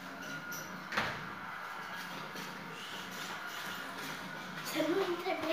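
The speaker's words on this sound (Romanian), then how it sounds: "acum mă duc să închid ușa" A door is pushed shut indoors, a brief thump and sliding scrape early on, followed by quiet shuffling and household movement, with a voice talking nearby.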